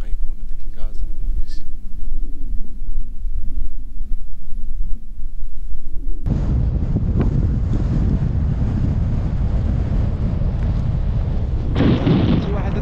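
Strong wind roars and buffets the microphone continuously, a low rumbling gust that grows heavier and louder partway through.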